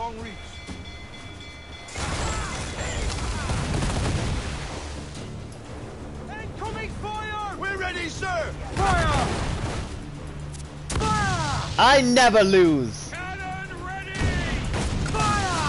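Ship cannons fire in the Assassin's Creed Black Flag video game, heavy booming blasts in bursts amid crashing sea and game noise, with someone talking over parts of the barrage.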